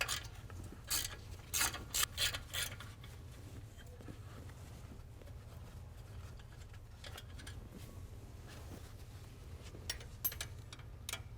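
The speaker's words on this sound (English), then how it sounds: "Start with removing the bolt that holds the bracket on." A ratchet clicks in short bursts while loosening the brake line bracket bolt on a 2017 RAM 2500 during a rear brake job, fairly faint over a steady low hum, with a few scattered clicks later.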